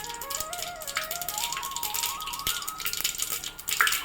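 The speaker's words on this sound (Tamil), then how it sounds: "கடுகு பொரியுது" Mustard seeds spluttering in hot oil while a traditional mutton curry is cooked: a close, dense, rapid crackling and rattling that runs continuously, with a faint tonal hum underneath.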